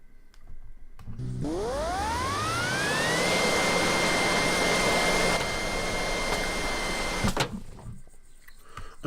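A simulated Osprey remote-control aircraft in the RealFlight flight simulator game spools up with a rising whine that settles into a steady loud drone over roaring noise, with the wind set to 25 miles an hour, and then cuts off near the end.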